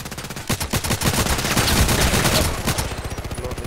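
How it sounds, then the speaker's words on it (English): Rapid automatic fire from an MP7 submachine gun in the shooter game Contract Wars, a loud, dense burst of shots that runs for several seconds, then thins into a quicker, lighter string of rounds. "he's using the MP7. This sound is really unfriendly"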